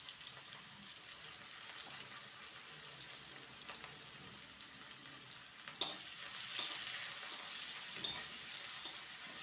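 Green chili and sliced onion frying in a pan for a raw tomato dish, a steady broadband sizzle throughout with a brief clatter of stirring midway, close and even, no talking.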